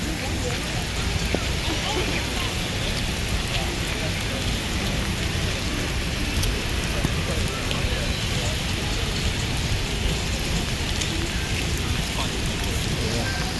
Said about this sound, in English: It looks like it's starting to rain a little harder right here.